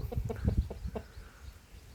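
A small-spurred Thai fighting rooster gives a quick run of soft clucks in the first second, then falls quiet against low background noise.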